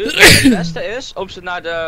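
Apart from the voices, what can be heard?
sneeze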